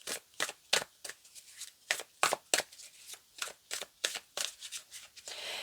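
A small deck of tarot cards handled and shuffled close by, giving a run of quick crisp papery flicks and slaps in uneven bursts, with no voices.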